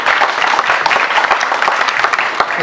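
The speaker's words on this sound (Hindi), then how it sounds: "तालियां होनी चाहिए, बहुत सारी।" Dense, loud applause from an audience at a prison event celebrating the release of prisoners, sustained steadily with scattered sharper claps throughout and no talk over it.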